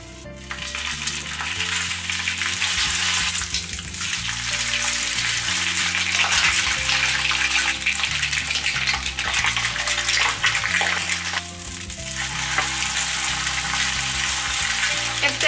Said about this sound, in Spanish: Tengo mi sartén a fuego medio, le vamos a poner un poquito de aceite vegetal